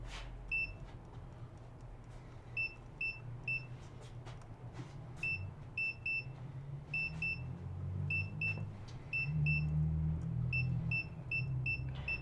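Repeated short, high electronic beeps in quick pairs and bursts from a multimeter in continuity mode testing a phone circuit board, over a low engine-like hum and faint clicks.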